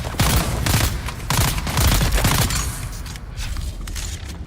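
Dune Awakening combat with a gunner firing: a burst of bursty gunfire with repeated sharp shots for about three seconds, then thinner, scattered shots trailing off, no voices.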